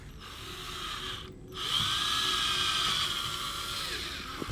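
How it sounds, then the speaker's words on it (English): A power drill boring a pilot hole through a skeleton's leg bone into the foot, a brief pause then a steady high whine that rises and holds for several seconds, close and alone. "We're just going to drill a pilot hole through the leg bone into the foot."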